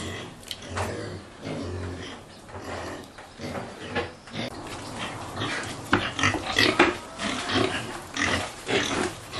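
Pigs on a farm at the African Center for Community and Development grunt and oink repeatedly at close range in irregular bursts, with occasional clanking and rattling alongside.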